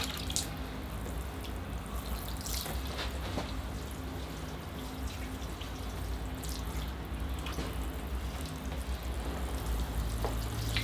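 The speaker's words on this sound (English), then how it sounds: "A nice thorough watering, soaking the planting so it drips out the bottom." Water pours steadily over a tigerbark ficus bonsai planting, a soft continuous splashing and trickling with scattered drips as the soil soaks through, quiet and with no voices.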